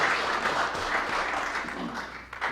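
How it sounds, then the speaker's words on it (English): Brief, lively audience applause for a team at a county freeholders presentation, close and fairly loud, tapering off at the end. "Please give them a round of applause"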